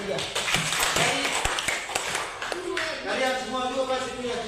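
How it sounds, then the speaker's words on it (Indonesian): Children in a classroom applaud, a burst of many hands clapping at once, loud and close, with voices mixed in as a teacher speaks over the clapping. "Tepuk tangan untuk mereka 3"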